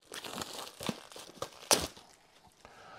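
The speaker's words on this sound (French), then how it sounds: "Donc voici le steelbook qui est proposé ici pour The Monkey. On va le déballer tout de suite." Plastic wrap crinkles and tears close up as a 4K Blu-ray steelbook of The Monkey is unwrapped, with scattered rustles and one sharper ripping burst midway.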